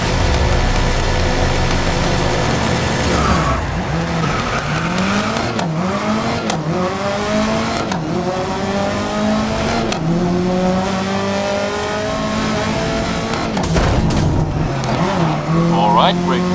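Race cars in GRID roar past with rising and falling engine revs, gear shifts and repeated swooping pitch sweeps as the field races closely together, loud throughout under a voice talking.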